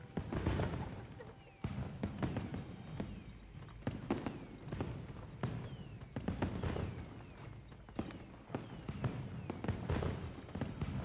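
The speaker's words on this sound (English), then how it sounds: "See, I can make a firework too." Fireworks burst in the video game Monster Hunter Wilds, with a dense run of sharp pops and crackles going off one after another over a steady background, with no talking over them.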